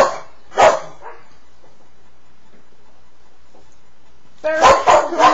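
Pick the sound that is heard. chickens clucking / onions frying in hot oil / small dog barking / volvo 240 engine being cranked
small dog barking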